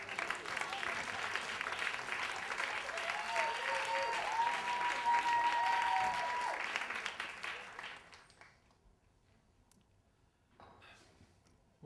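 Audience applause for a comedian coming to the stage, steady and full for about eight seconds and then fading out, with a brief voice near the start and a few scattered claps left at the end.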